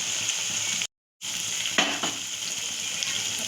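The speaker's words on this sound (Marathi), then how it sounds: "तेल गरम करायला ठेवायचं आणि त्याच्यामध्ये मिरची टाकायची." Whole green chillies fry in hot oil in a kadhai, giving a close, continuous crackling sizzle with a brief burst of louder spitting, broken by a short dropout of silence early on.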